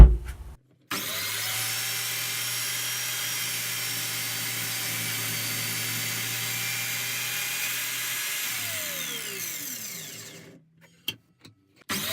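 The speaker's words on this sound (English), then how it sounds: "I'm going to cut it down to length and then cut the width." A power saw cuts a piece of timber to length for a wall light project, a steady loud whine running about ten seconds before winding down, followed by a few sharp knocks.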